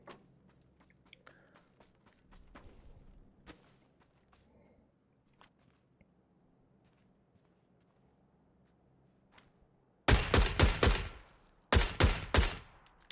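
Quiet scattered clicks and footsteps in PUBG, then two sudden rapid bursts of loud gunfire near the end.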